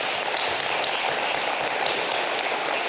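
An audience at an international school literacy event in northern Japan applauds, a dense, even wash of many hands clapping throughout, moderately loud with no talk.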